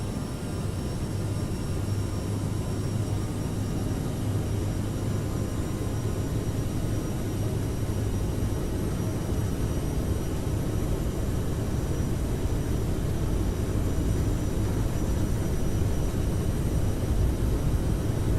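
CRJ jet engines spooling up for takeoff in Microsoft Flight Simulator, a steady, dense roar with a low drone throughout, holding at an even level.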